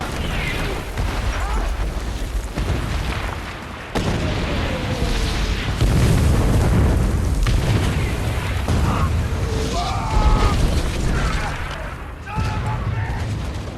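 Heavy booming blasts from a battleship shell bombardment of a Pacific island, with deep rumbling bursts repeating under a narrator's continuous talk and background music.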